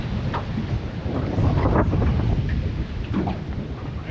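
Wind gusts across a lake during a March crappie fishing trip, buffeting the microphone with a steady low rumble and roar. Brief swells rise and fall, and no voices are heard.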